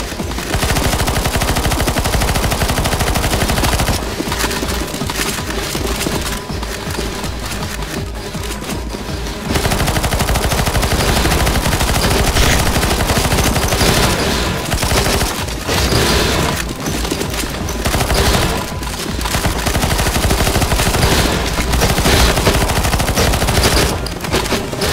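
Dense automatic gunfire in the video game CS:GO Zombies, loud continuous bursts with short gaps, alone without talk.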